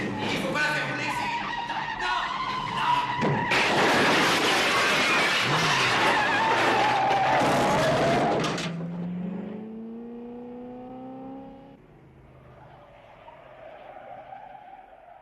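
A car engine bursts loudly to life close by and roars, then settles into revving with rising and falling pitch that fades to a lower idle.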